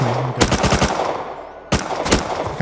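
Automatic gunfire in the video game Rust, two loud, close bursts of rapid shots with a brief pause between them.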